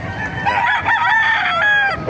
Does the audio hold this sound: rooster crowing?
yes